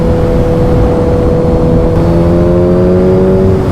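A Suzuki Hayabusa sport bike with an aftermarket exhaust gives a loud, deep, steady engine drone with a rising rev, close up on an empty road on a weekend morning.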